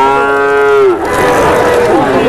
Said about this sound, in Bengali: এই পাশে দেখেন এখানে হলো সবগুলো ছোট ছোট গরু।